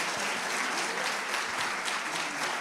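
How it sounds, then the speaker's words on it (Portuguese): A church congregation applauds during a celebration service, a steady, fairly soft patter of many hands clapping across the whole moment without any talk. "A igreja pode aplaudir Jesus pela vida dos visitantes."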